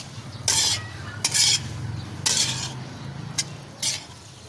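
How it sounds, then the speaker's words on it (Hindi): Potatoes and moongre frying in a pan, a background sizzle broken by several short scraping stirs of a spoon against the metal at irregular intervals, close and fairly loud. "अब हम इनमें आलू शामिल कर देंगे और इनको अच्छी तरह से भून लेंगे"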